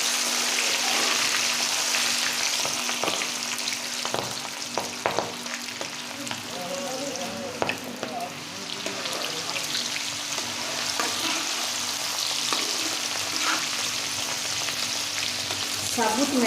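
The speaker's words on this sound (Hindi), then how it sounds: "साबुत मैसूर भी काफ़ी अच्छे सिकते हैं।" Whole masoor lentils fry in oil for a mixed namkeen snack, producing a continuous dense sizzle up close with scattered pops and occasional scraping of a stirring spoon.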